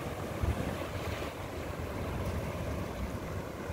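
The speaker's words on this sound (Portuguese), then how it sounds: "Olha o tamanho das ondas." Large ocean waves roll in at Praia das Pedras beach as a steady, broad wash of surf with wind buffeting the microphone, continuous and fairly loud, with no voices.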